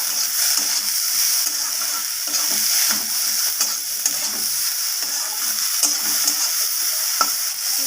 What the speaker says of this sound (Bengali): এখানে আমার উচ্ছেগুলো ভাজা হয়ে গেছে